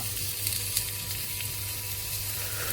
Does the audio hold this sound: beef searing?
yes